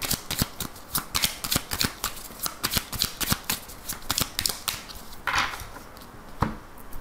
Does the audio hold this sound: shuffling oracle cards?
yes